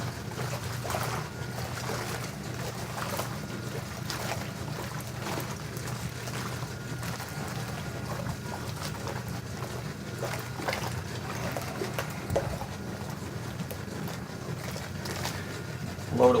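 Zenith wringer washer running, a steady churning slosh of water and agitating clothes that continues evenly throughout, moderately close with no talk over it.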